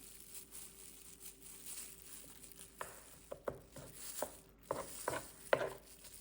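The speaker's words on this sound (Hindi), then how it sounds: "लहसुन को भी काट लेते हैं।" A knife chops garlic on a cutting board while a turkey dish is prepared, producing a run of sharp, uneven taps that come faster and louder in the second half over a quiet kitchen hum.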